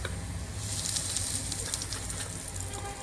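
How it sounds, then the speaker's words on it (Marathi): Mustard seeds tempering in hot oil, with turmeric and asafoetida joining for a Konkani mithane dish, give a steady close hiss of sizzling with faint crackles running the whole time. "आता तेल तापलेलं आहे, त्याच्यामध्ये मी घालतोय ही जराशी मोहरी"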